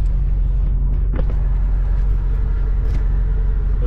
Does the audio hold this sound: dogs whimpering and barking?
no